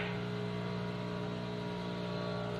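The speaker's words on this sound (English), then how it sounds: "I wonder if you can hear the leaf blower outside." A leaf blower running outside gives off a steady, continuous motor drone with a constant whirring hum, muffled and unchanging throughout.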